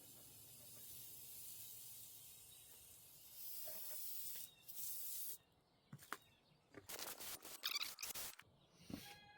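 An aerosol can hisses in a few short sprays near an engine intake, followed by scattered clicks and rustling handling sounds.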